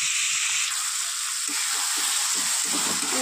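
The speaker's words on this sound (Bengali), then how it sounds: "আমি দিয়ে দেবো সিদ্ধ করে রাখা ছোলার ডাল" Boiled chana dal goes into hot, sizzling fried spice masala, producing a bright, steady hiss with a few clinks and stirring knocks underneath.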